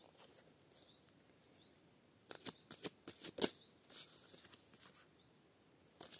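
Tarot cards being shuffled and drawn, soft papery flicks and riffles in a quick cluster, close and quiet in an otherwise hushed room.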